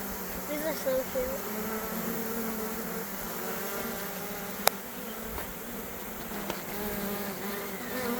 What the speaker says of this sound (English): It's kind of cool seeing the bees.